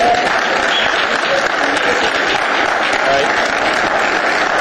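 Audience applause at a municipal assembly hearing, a steady dense wash of clapping from many hands filling the room throughout, without a break.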